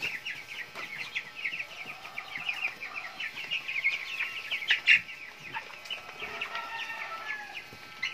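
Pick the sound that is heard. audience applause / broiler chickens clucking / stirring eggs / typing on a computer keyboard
broiler chickens clucking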